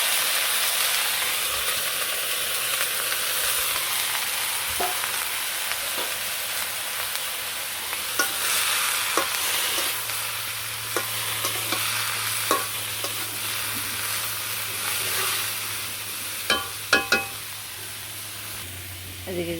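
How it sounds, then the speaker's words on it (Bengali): Vegetable charchari cooks on a stove, a soft steady sizzle broken by repeated scraping clicks of a spatula stirring the pan, a few sharper knocks near the end, with a faint low hum underneath. "আমি চরচরি সবজি বানিয়ে চুলায় দিয়ে দিলাম"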